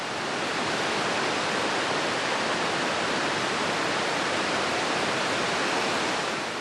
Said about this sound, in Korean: 디냔디 폭포는 60m 높이에서 7개의 폭포가 합해져 하나의 거대한 폭포를 이루고